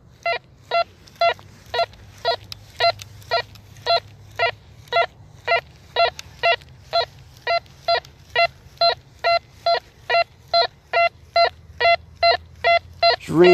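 A Nokta Impact metal detector emits a steady train of short, identical electronic tones, about two per second, ringing clearly and evenly throughout with no talking, sounding in the zinc penny range.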